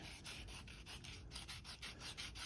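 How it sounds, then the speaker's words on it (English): Coarse sandpaper rubbing back and forth over a wooden model aircraft kit of a Beechcraft Bonanza, a steady rhythmic rasp of repeated strokes, close and alone. "It's fairly coarse sandpaper to start with, and then they also give you a finishing sheet."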